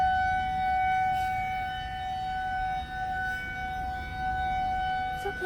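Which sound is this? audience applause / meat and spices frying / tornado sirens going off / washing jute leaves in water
tornado sirens going off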